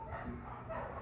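Dogs bark faintly in a backyard at night, a few distant yips and woofs under a quiet, hissy background.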